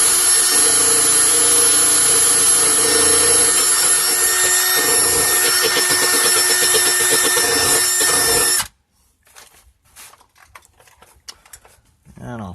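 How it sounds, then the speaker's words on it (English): A power-driven wire wheel grinds loudly and continuously against metal, stripping it to bare metal on a 2007 Ford Expedition, then cuts off abruptly, leaving quiet shuffling and handling noises. "whenever you're using a wire wheel"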